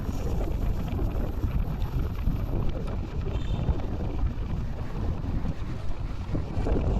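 Heavy wind buffeting a microphone while riding a scooter, a steady loud low roar that runs without a break and with no voices.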